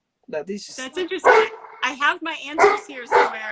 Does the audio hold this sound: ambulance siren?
no